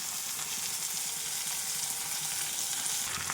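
Vegetable stalks frying in oil with salt and turmeric, a continuous close sizzling crackle with faint stirring taps throughout, no voices.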